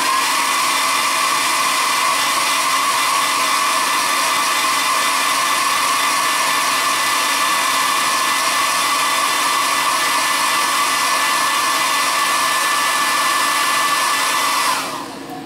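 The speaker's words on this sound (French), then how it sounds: "Ça, je vais lui mettre un coup aussi de sèche-cheveux." A hair dryer blows steadily and loudly at close range, a constant whooshing whine that cuts off abruptly near the end.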